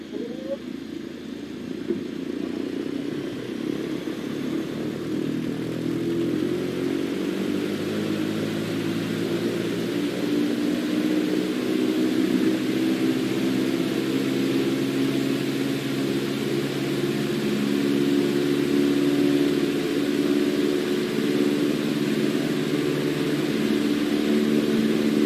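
Light aircraft engine roaring at full power on the takeoff roll, a steady loud drone that slowly rises in pitch and intensity, with a person talking over it.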